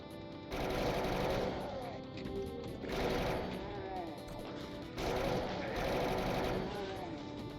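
Rapid bursts of automatic gunfire from a weapon in the Citadel Throwdown video game, three long sustained volleys of rattling shots with brief gaps between them, loud and close.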